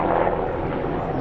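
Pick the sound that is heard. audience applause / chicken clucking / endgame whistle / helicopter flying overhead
helicopter flying overhead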